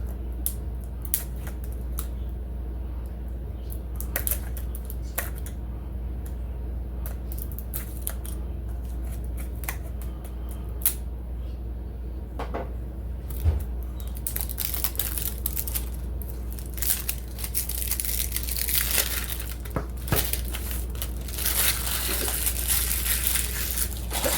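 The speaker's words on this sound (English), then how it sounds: "Get this little plastic wrap off here." Thin plastic wrap is peeled and crinkled off a survival fishing kit, with close crackling and rustling that grows busier and louder in the second half.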